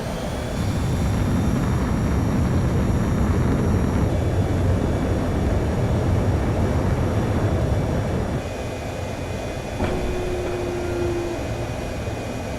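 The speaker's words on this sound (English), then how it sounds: "Spare 15, you are cleared for takeoff." A fighter jet in the video game Ace Combat 7 roars steadily on its takeoff run, a loud broad engine rush that eases slightly near the end, with a brief tone cue.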